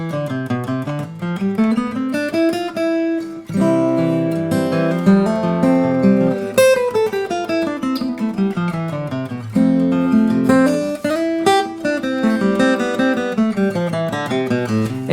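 A major scale played on guitar in a blues lesson: a steady run of single plucked notes climbing and falling over a strummed chord backing, close and clear, with no talk.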